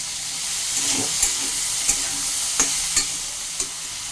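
Eggplant, pumpkin and potato frying in oil in a pan over medium-high heat, a steady close sizzle with several sharp spatula scrapes and stirring clicks spaced through it, no voices.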